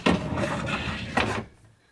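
A large pots-and-pans drawer in a DIY Sprinter van kitchen slides open or shut with a close wooden rattle and a short thump near the end, then the sound fades to quiet.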